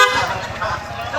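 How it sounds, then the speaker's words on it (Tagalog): A vehicle horn, said to sound like a garbage truck's, blares as a steady harmonic tone under a voice, loud and close for about a second. "Ganda ng busina mo."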